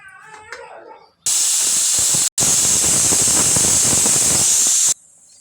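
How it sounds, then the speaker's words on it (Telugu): A pressure cooker cooking tomato rice vents steam in a loud, sharp hiss, briefly breaking off once and then hissing on for several seconds before cutting out. "కుక్కర్ క్లోజ్ చేస్తే విజిల్ పెట్టుకుందా టూ విజిల్స్ వచ్చే వరకు చూద్దాం"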